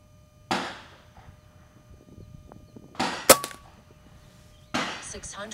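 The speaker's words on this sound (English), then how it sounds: "I'm just going to shoot for the middle target." An air gun fires Umarex Brimstone pellets at a target: three sharp, close cracks spaced a few seconds apart, each followed by a brief impact or thunk, with quiet between shots.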